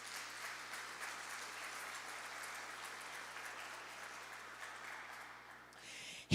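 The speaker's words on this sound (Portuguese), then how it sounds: "Aplauda ao Senhor em nome de Jesus" A church congregation at a Sunday family celebration service claps together in a sustained, even round of applause at moderate distance, which fades out near the end.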